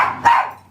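A dog barks sharply a couple of times, close and loud, with no talking.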